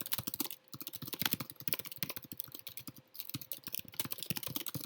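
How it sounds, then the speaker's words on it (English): Steady computer keyboard typing, slower than usual, with a continuous run of close, crisp key clicks in uneven rhythm over about five seconds and no talking. "I'm obviously typing a lot slower than usual"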